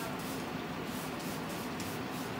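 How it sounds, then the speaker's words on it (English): Cavicide disinfectant sprayed over surfaces and chairs in a room, a steady close hiss of spraying lasting throughout with faint rubbing, no talking. "So she's spraying everything down."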